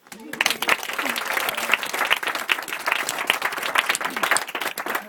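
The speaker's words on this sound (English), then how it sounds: "Round of applause for Tina." Wedding guests applaud the bride, Tina, during a speech, lively uneven clapping that rises quickly and carries on close by, with a few voices and cheers mixed in.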